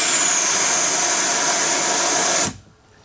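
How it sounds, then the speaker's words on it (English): Compressed air hissing out of the brake system under the dash of a Magirus Deutz 170D11 truck, a loud, steady, close rush that cuts off abruptly near the end. "it's just letting out a whole lot of air up under the dash."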